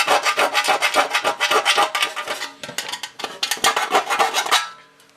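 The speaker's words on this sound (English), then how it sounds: "Now take a round file. Now this is fairly coarse." Coarse round chainsaw-style file scraping along an edge at about 45 degrees, a close, loud rasping in quick, regular back-and-forth strokes that slow near the end, with no talking.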